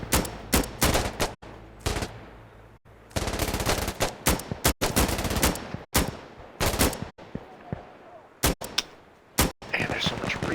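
Rapid bursts of automatic rifle fire and single shots in the military shooter game Insurgency: Sandstorm, loud and close, with sharp gaps between volleys and a voice talking over the gunfire.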